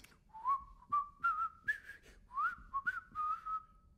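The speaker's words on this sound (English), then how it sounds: "whistling a tune." Someone whistles a lilting tune alone: a string of clear, rising and falling notes in short, close phrases, fairly soft.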